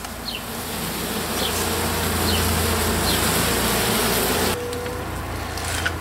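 Honeybees from a newly installed package in a Langstroth hive buzzing loudly and steadily while being sprayed with sugar water, a dense close hum that drops a little near the end.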